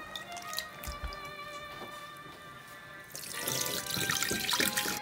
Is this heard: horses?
no